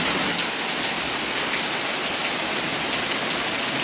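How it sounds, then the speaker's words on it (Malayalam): Heavy rain pours steadily onto surfaces in a dense, loud, unbroken hiss of drops, with wind in the background and no talking. "കാറ്റും നല്ല മഴയാണ് കേട്ടോ"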